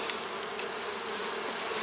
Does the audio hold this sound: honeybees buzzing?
yes